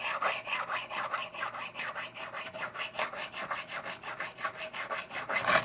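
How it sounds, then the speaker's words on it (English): A small sanding block rubs back and forth over guitar frets in quick, even strokes, a dry rasping scrape repeating about four times per second, close and alone. "I'm just using this little sanding block."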